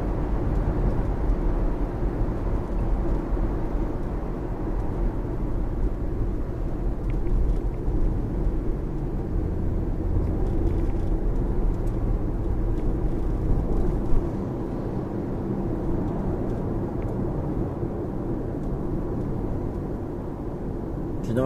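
Inside a Lexus on the road, a low steady rumble of tyres and engine fills the cabin, quiet and continuous throughout.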